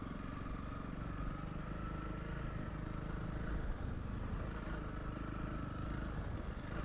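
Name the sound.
Honda CRF 300 Rally motorcycle riding on rough road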